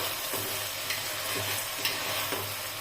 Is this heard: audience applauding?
no